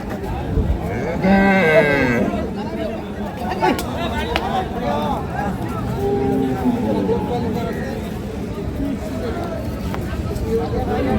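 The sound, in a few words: Rani Shankar cow mooing at cattle market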